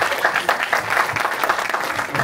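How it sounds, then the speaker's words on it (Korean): Applause from the audience at a union staff training retreat, a dense steady wash of many hands clapping close by with no speech over it. "박수 부탁드리겠습니다."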